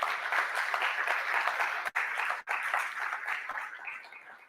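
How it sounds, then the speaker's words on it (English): An audience at an annual general meeting claps steadily and fairly loudly for several seconds, a dense, continuous applause with two very brief dropouts and no voices over it. "Can we please give her a round of applause?"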